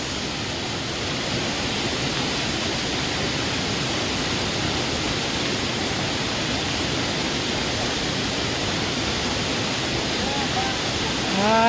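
Savat Sada waterfall roars in a constant dense wash of falling water, loud and unbroken from start to finish, with voices faintly present.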